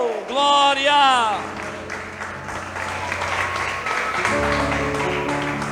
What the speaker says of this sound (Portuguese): Dê um aplauso bem lindo para Jesus